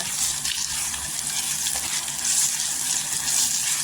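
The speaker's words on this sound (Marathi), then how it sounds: "नमक टाकल्यावर सॉफ्ट होतो, छान असं तेलावर परतून घ्यायचं." Onion and tomato with salt sauté in oil in a pan, making a constant close hiss and sizzle with soft stirring. No voice is heard.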